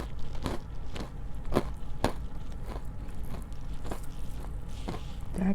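Crunchy bites into Popeyes fried chicken during a mukbang, several sharp crackling crunches spaced about half a second apart, close and fairly loud over a steady low background.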